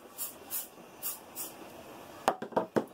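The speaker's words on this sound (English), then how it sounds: "Put a little bit of spray of that" Four short hissing aerosol bursts of mold release agent onto a 3D-printed mold, evenly spaced, followed by a few sharper clicks or taps up close.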